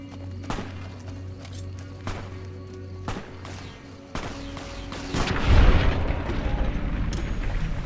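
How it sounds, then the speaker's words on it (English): Gunshots in Fallout New Vegas ring out as several sharp booming cracks spaced about a second apart, followed by a louder rumbling burst of distant fire. "The moment I heard gunshots"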